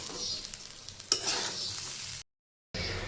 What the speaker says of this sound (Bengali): চালগুলো খুব ভালো মতন ভাজা হয়ে গিয়েছে